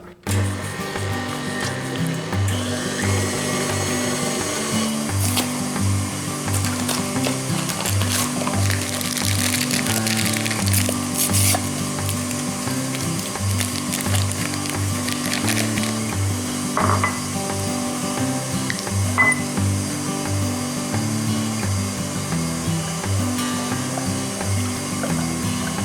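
An electric mixer whirs steadily through cream cheese and sugar, a dense mechanical churn that runs unbroken and fairly loud from start to finish with no talking over it.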